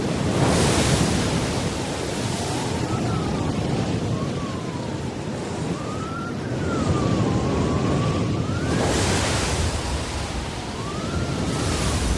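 Storm effects of a full-force Antarctic hurricane: loud roaring surf and surging waves under howling, rising and falling wind whistles, continuous and close.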